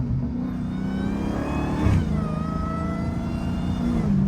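Supercharged Dodge Hellcat SRT engine revs up and holds a loud, steady whine, with a brief surge near the middle heard from close range.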